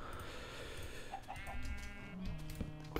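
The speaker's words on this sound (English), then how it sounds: "That's dangerous, Mr. Chicken." Chicken clucking in the game Minecraft, a few short soft clucks amid a busy game-audio bed with faint tonal music, fairly quiet and steady throughout.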